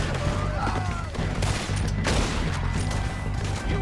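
Sustained gunfire in Red Dead Redemption 2 during a train robbery: dense, loud bursts of shots and booms run continuously with no pause, packed closely together.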